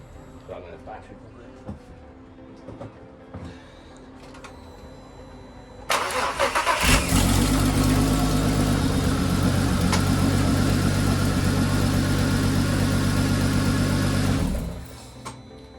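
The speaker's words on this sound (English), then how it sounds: "I just want to start it to see, make sure it starts after obviously removing the engine." A Mk5 VW Golf R32 Turbo, its engine newly removed and refitted, cranks over and fires up, then settles into a steady, even idle up close. Things stay quiet before the start, and the engine cuts off near the end.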